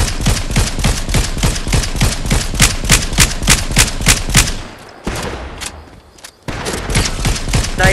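Rapid bursts of video game gunfire, a near continuous loud volley of sharp shots, break off briefly before a few more rounds ring out.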